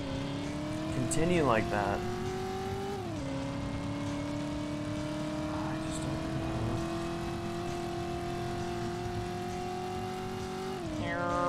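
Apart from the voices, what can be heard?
car driving in the video game RPD Driver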